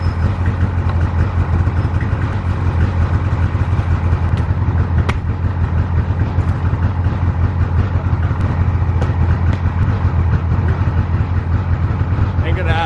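Snowmobile engine idling while it warms up in cold weather, a steady low rumble throughout, close and loud, with faint clicks over it.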